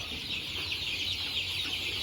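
A farm flock of over three thousand crossbred chickens produces a continuous, dense wash of clucking and chatter that stays steady throughout, with no talking.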